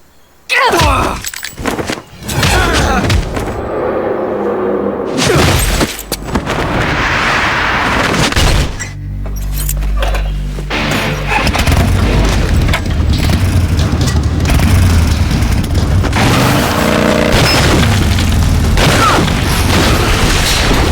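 Heavy combat in the stealth-action video game Metal Gear Solid 3: Snake Eater plays out as loud, dense gunfire and booming explosions, continuous for about twenty seconds with deep rumbling blasts and crackling shots layered together.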